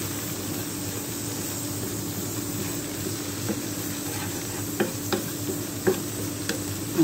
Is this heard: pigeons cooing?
no